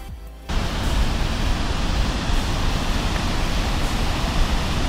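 Roar of an Icelandic waterfall from about 20 metres up, heard from a path near its edge: a dense, steady broadband rush that cuts in after a brief quieter moment and holds loud and unbroken.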